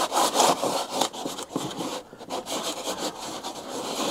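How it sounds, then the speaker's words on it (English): An object rubbed firmly back and forth on both sides during watercolour painting of a loose townscape, producing rough, close scratchy strokes in a quick uneven rhythm with brief pauses. "rub it like this on both sides. Otherwise it pulls off one side"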